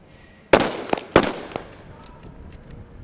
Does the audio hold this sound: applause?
no